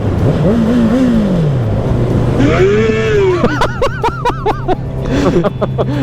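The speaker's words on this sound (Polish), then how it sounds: "Widzę jakieś białe światła. Jest to motocykl." An engine rises and falls as a motorcycle sweeps past, then revs in short bursts, loud and close over steady road rumble.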